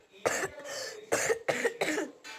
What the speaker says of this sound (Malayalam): ഗൈസ് എനിക്ക് ചുമയാണ്.